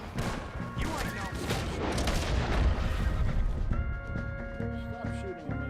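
A burst of gunshots in the video game Red Dead Redemption 2, heavy overlapping booms and cracks dense at first and then thinning out, with voices speaking over the fire.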